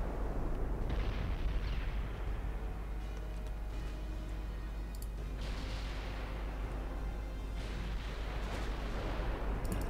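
Warship guns in Ultimate Admiral Dreadnoughts fire in a dense, continuous barrage, heavy rumbling booms and bursts layering over a constant low roar, with several sharper blasts swelling out of the din.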